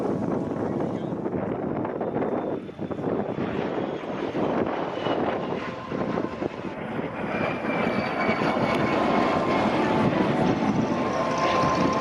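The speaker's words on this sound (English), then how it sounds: "The Vampire and the Messerschmitt 262 return in formation." Jet aircraft roar overhead, a de Havilland Vampire and a Messerschmitt 262 flying together in formation at an air display, a loud continuous broadband rush with wind buffeting the microphone throughout.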